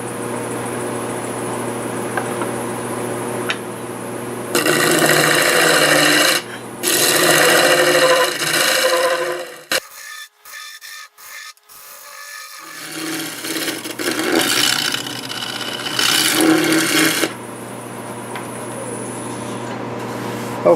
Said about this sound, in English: I think it's time to bring out the negative rake scraper